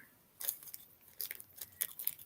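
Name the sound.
scissors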